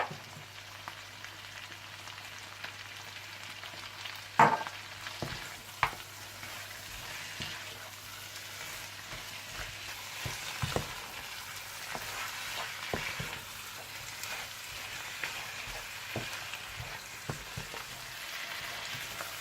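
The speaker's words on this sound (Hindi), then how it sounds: "जब चाप्स मसाले में अच्छी तरह से मिक्स हो जाएं और भुन जाएं" Masala chops sizzle and fry in a karahi while being stirred. A steady crackling hiss is broken by scattered clanks and scrapes of the spoon against the pan, close and continuous, with no talking.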